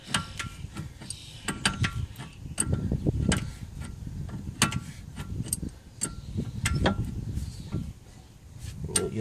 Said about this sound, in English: Get your moving wrench onto there and just start turning it like that.